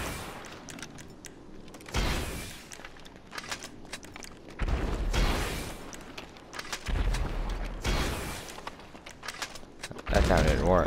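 RPG and homing launcher fire in GTA 5 Online: several heavy booming launches and explosions arriving in irregular bursts, loud and close, with talking between the blasts.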